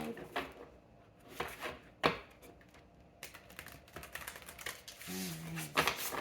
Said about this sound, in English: Hopefully the shuffling's not too loud.